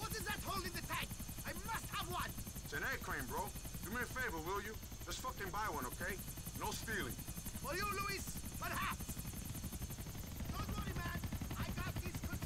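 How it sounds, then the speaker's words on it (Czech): Helicopter hovering in the air in the video game GTA IV: The Ballad of Gay Tony, a steady rotor drone running under someone talking throughout, with scattered game effects mixed in. "to je i s vrtulníkem, takhle ve vzduchu"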